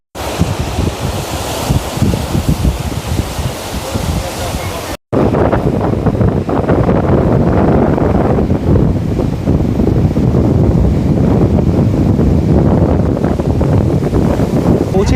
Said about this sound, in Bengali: এখন হাঁটছি নিউ দীঘা থেকে ওল্ড দীঘা সমুদ্রের পাড় ধরে ধরে।